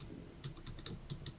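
A street address tapped out on a computer keyboard, with quick, faint, close clicks in an uneven rhythm over a low room hum.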